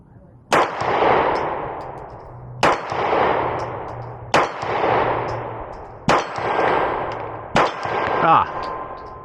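Five Glock pistol shots fired at a target on a range, each a sharp loud crack followed by a long ringing decay, spaced roughly every one and a half to two seconds.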